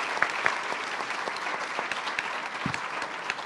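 An audience at a startup and investor summit in Colombia applauds entrepreneurs and investors, a steady dense clapping from a sizable crowd with a few sharper nearby claps standing out.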